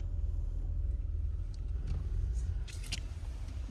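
A car crosses water on a mountain road to the Baba Harbhajan Singh temple in Sikkim, with a continuous close engine rumble and a few splashy bursts near the end.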